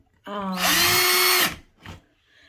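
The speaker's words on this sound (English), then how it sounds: "What you're going to watch me do is I drilled these holes in" An electric drill revs up and runs steadily for about a second while boring holes into the plaster wall of an old house. It then stops, followed by a short, quieter burst. The sound is close and loud, with no speech over it.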